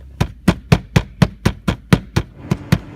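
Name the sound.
tapping on a car's blower motor to free it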